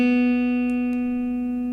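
A steady reference tone sounding the pitch for the second (B) string of a guitar, held continuously and evenly at close range with no other sounds.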